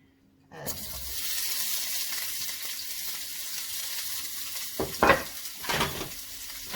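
Steady sizzling of onion and leek frying in a pan over medium-low heat, with a few brief clatters of stirring near the end.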